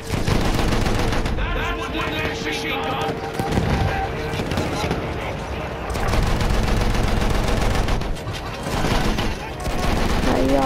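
Sustained automatic gunfire and dense firefight noise in the Battlefield video game, loud and nearly continuous with brief dips, with voices talking underneath.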